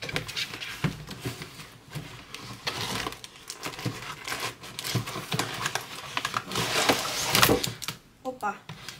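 A knife cuts and rips through cardboard and plastic doll packaging, giving irregular scraping, tearing and crinkling bursts close by, with a quick rustle near the end.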